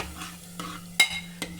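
Tomato tadka for potato curry being stirred in a pan, with a few soft scrapes and clinks of a spoon and a couple of sharper knocks against the metal over a low steady hum, no talking.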